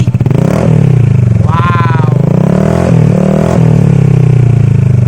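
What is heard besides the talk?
motorcycle revving without exhaust silencer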